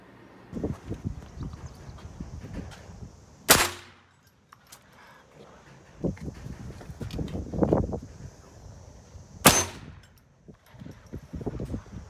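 Two sharp, loud gunshots hit D2 steel several seconds apart, each a sudden crack, amid quieter clattering and rustling nearby.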